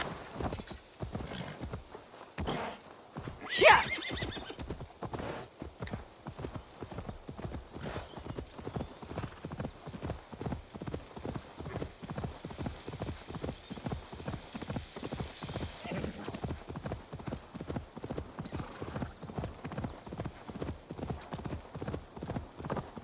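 A horse in Assassin's Creed Valhalla walks with a steady, even clip-clop of hooves that runs continuously, with a brief loud neigh early on.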